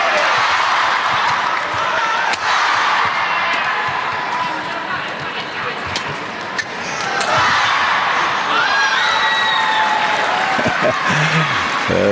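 A crowd at a badminton men's team semi-final at the SEA Games yells and cheers in a large indoor arena, a sustained roar with scattered claps and shouts while a commentator talks over it.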